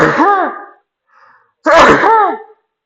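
Two loud, close sneezes a moment apart, each a sharp burst with a voiced ring, separated by a brief quiet breath.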